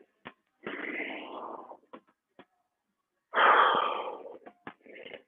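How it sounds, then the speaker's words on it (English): A deep breath drawn in through the nose, then a long exhale, both close and breathy and alone against silence, broken by a few short clicks and taps, during a fitness camp stretching session. "You're gonna take a big deep breath in through your nose, hold your arms to the top, exhale down."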